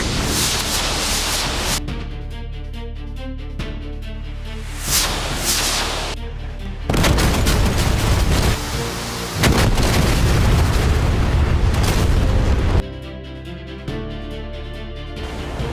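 Artillery fire and heavy explosions in a bunker-buster strike scenario boom in loud, sustained bursts, with rumbling blasts alternating with quieter stretches and dense, roaring impacts.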